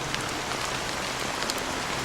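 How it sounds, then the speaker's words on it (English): Steady rain patters on surfaces in the video game Honkai: Star Rail, a dense even hiss of drops throughout with no voices. "So, how long has this rain been going on for?"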